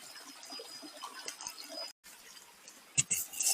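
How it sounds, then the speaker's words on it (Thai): Water trickles faintly along a stream at Ang Chang Nam waterfall, a quiet, uneven flow with a brief gap and a few louder splashy moments near the end. "น้ำไหลเป็นระยะเลย"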